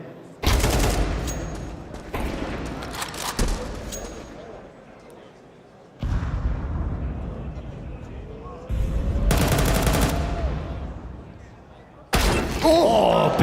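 Counter-Strike match gunfire: several loud, sustained bursts of shots and impacts in separate clusters, each fading out, with a commentator's voice in between.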